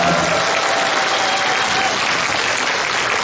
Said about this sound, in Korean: 김대중 대통령께 존경과 감사의 박수 부탁드립니다.